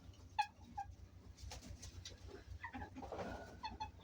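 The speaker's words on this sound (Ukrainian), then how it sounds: "Спостерігаю сьогодні е, за ось цими голубами." Pigeons coo softly and repeatedly nearby in an outdoor rural setting, with short bird calls over a steady low hum.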